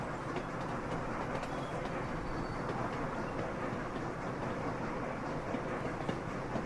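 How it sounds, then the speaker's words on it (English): A video game train rolls on through a station without stopping, giving a steady, faint rumble with soft clickety-clack from the rails, continuous and even, with no voices. "The train departs. It will not stop here, instead it will just continue on."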